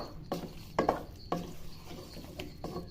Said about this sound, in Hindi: इसको अच्छे से चला लेंगे, मसाला अच्छे से मिक्स हो जाएगा।